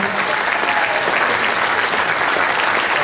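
Audience applause at a jazz festival, a dense, steady wash of clapping from a large crowd that holds at full strength throughout.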